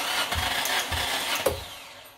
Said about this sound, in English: With my left hand, I'm going to crank it.